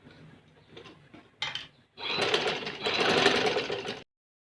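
Sewing machine running a line of stitching across the shoulder over ironed pintucks, a short burst then a louder sustained whir of about two seconds, close and alone.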